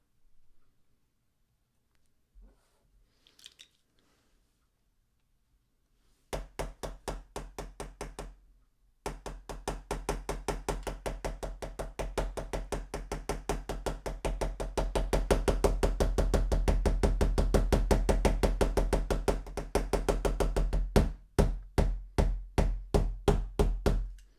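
A hammer taps an Apple iPhone 5s screen in a crush and scratch test. After a quiet start, a long run of rapid, evenly spaced hard knocks carries on steadily before slowing into a few separate strikes.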